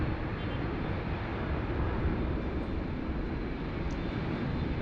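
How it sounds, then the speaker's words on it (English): A Qantas QF11 airliner departs Sydney Airport for Los Angeles amid a thunderstorm, its jet engines a steady, loud, broad roar that holds throughout. "first time seeing QF11 departing"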